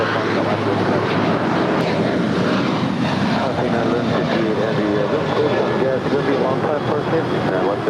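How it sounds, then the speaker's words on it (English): A 21-year-old United Boeing 737-800 departing LAX for Seattle, its jet engines producing a loud, steady rumbling roar that holds across the whole stretch, with a voice heard over it. "That was United 2010 departing to Seattle. It's a 21-year-old 737-800."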